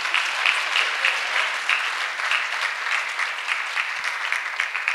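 An audience at a church gathering claps steadily for several seconds, a dense, even wash of many hands at moderate distance with no voices standing out.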